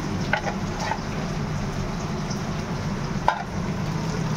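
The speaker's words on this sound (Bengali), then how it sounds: "এখন আমাকে পেঁয়াজটা ভাজছি" Onions fry in a pan, a steady close sizzle that holds even and unbroken throughout, with a few faint clinks of stirring.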